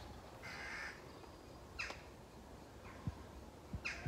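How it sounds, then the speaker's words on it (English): Crows in an old graveyard in Haworth, West Yorkshire, give several harsh caws at intervals, fairly faint and distant, over a quiet outdoor background with a few soft thumps. "Crows everywhere."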